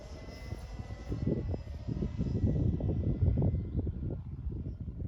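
An electric Seagull Westland Lysander RC model plane on its maiden flight at a model flying club, heard as a faint motor whine with broad whooshing that swells and fades as it passes by.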